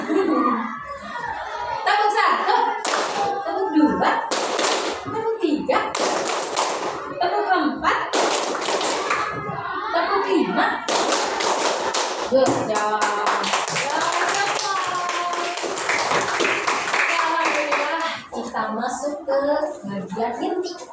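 A class of children clapping hands together in counted rhythm during a ratio lesson, sharp claps repeating over lively chatter and speech, fairly loud and close.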